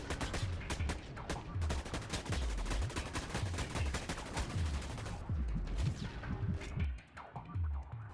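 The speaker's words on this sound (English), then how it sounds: "The tactical assault rifle is a single-shot assault rifle that does massive damage and has a camera sight mounted on the top." A tactical assault rifle fires in the video game Dust 514, a loud rapid string of shots with deep thumps that continues for several seconds and then trails off near the end.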